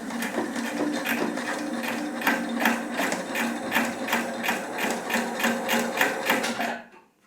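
A Husqvarna Topaz 25 sewing machine stitches at about 1200 stabs per minute, a rapid, even mechanical clatter with a steady motor hum, close and loud, stopping abruptly at the end.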